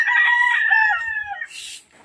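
A rooster in a gamefowl yard crows once, a loud, close drawn-out call that fades at the end, followed by a brief rustle.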